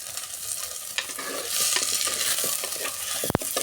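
Onions frying in sesame oil in a pan for a fish curry, a steady close sizzle with occasional stirring scrapes and a sharp clink near the end.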